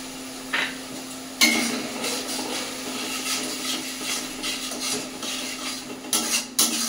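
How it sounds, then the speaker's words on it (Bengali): Spices with turmeric, chili powder and spice-rinsing water stir-fried in a pan, with a spoon scraping and clinking against the metal in irregular strokes over a steady low hum. "তো এটা ভালো করে কষাতে হবে যতক্ষণ না মশলা থেকে তেল ছাড়ছে।"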